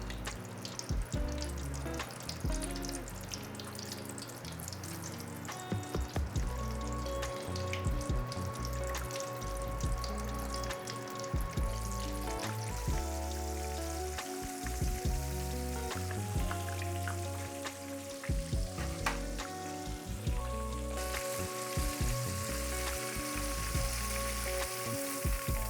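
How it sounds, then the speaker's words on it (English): Battered sweet and sour pork pieces deep frying in hot oil during a double fry, a steady crackling hiss running throughout under a busy background with clinks and scattered sharper pops. "We will absolutely be doing a double fry for this."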